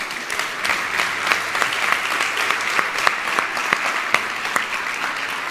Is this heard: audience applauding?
yes